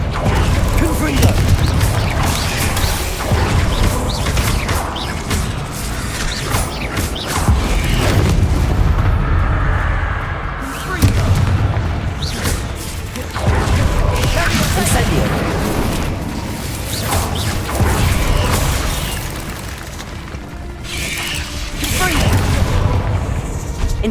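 Repeated booming Confringo spell explosions in the video game Hogwarts Legacy, dense and loud throughout, with a spoken voice mixed among the blasts.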